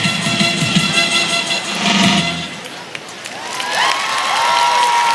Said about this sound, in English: Big applause for the bells